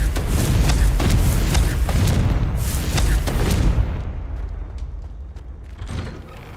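Confringo blasting spell exploding in Hogwarts Legacy, a burst of booming impacts and crackling debris, loud at first and then fading into a rumbling, creaking decay.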